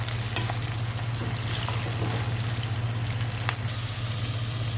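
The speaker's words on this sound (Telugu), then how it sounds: "ఇలా వేగితే చాలండి ఉల్లిపాయలు" Onions frying in a pan make a steady, dense sizzle that runs without a break, close and even in loudness, with a low hum underneath.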